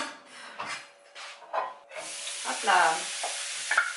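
Courgettes go into hot oil in a pan over medium heat, scraping and rustling, then a louder sizzle rises and holds; someone speaks briefly around it.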